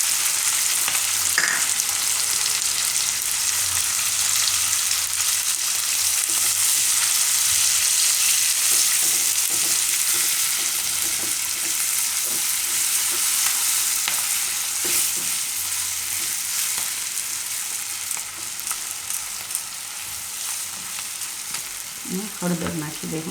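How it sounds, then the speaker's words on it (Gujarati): Chickpea flour roasting in hot oil beside green chilies, with a steady crackling sizzle and occasional stirring scrapes that slowly soften toward the end, no voices. "આ રીતે મરચાં સાઈડમાં કરી પછી આપણે તેલમાં લોટ નાખી દઈએ"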